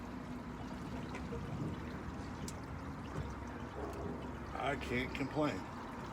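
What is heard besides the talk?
pouring fluid back into a vehicle after a repair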